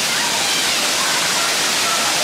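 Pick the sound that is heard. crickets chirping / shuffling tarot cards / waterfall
waterfall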